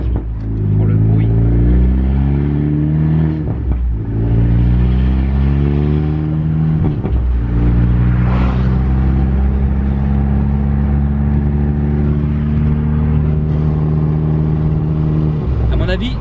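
A Seat Leon Cupra R engine and exhaust rev hard and loud from close by, rising and falling in pitch through several accelerations, with people speaking over it.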